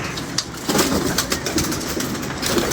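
Pigeons coo steadily throughout, with repeated low throaty calls against a busy outdoor background where birds are kept for sale.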